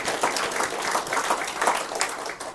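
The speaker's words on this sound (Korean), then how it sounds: "격려의 박수를 드리겠습니다" Church congregation gives a sustained round of applause honoring two members turning seventy, steady dense clapping throughout without talk.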